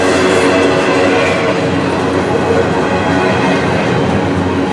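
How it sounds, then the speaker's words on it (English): A Norfolk Southern freight train, V07, rolls past close and loud, its wheels rumbling and clattering over the rails in a continuous steady roar. "And here come the final bare tables of the train."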